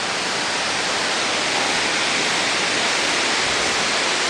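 Heavy water pours down during a thunderstorm in Grand Gulch, Utah, in a constant, loud, hissing roar, like a downpour or cascade, with no breaks and no voices.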